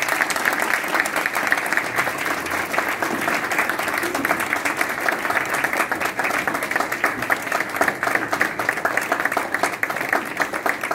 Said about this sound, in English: Please join me in welcoming Mayor Lightfoot.